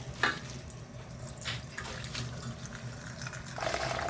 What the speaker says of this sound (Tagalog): hugasan natin itong ating dahon ng kamote